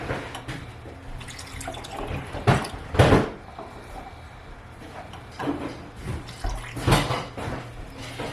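Kombucha is poured between glass jars in a home kitchen, with soft liquid splashes and a few sharp glass clinks and knocks, some louder bumps standing out.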